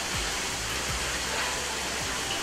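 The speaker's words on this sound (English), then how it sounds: "It's coming from the water that is entering the tank." Water flows into a catfish breeding tank with a constant, dense, hissing rush, steady and unbroken throughout, with a few soft low thuds underneath.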